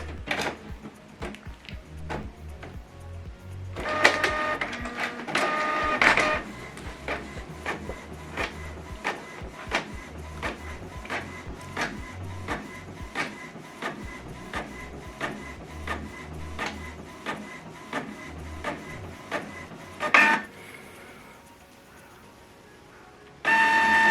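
A laser printer runs a double-sided print job, its steady mechanical whir and rapid clicking feed sheets through. Louder bursts come as each page is drawn in and later pulled back for the second side, with no talk.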